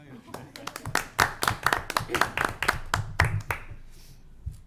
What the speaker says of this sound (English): All those in favor, please signify Aye. by applauding loudly.